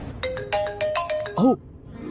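A mobile phone plays a melodic ringtone: a quick run of bright electronic notes rising and falling, loud and close, then a short warbling tone at the end.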